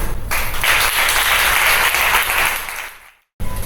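An audience at an International Women's Day event bursts into loud, dense applause that holds steady, fades out near the end, and breaks off into a brief silence before sound resumes.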